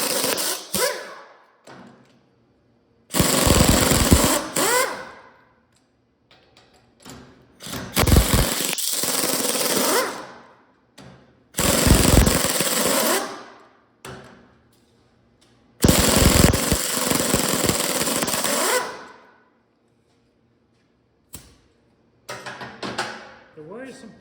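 An impact wrench on over-tightened bolts of a 14 bolt differential, firing in several loud hammering bursts of two to three seconds each, separated by quiet pauses with brief clanks and handling noises.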